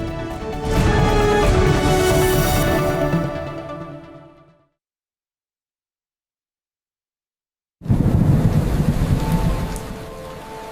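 Heavy rain pours with rolling thunder in a loud, dense roar that fades into complete silence partway through, then bursts back in just as strongly.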